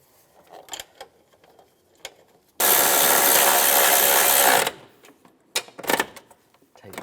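A power tool whirs in one sustained two-second burst while tightening bolts on the starter cover of a 2004-2010 BMW X3, loud and close, framed by scattered clicks and handling knocks of parts and tools.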